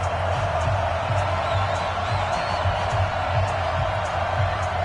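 Stadium crowd at an NFL game between the Minnesota Vikings and New Orleans Saints, a steady dense roar of many voices with faint whoops rising over it, continuous and loud throughout.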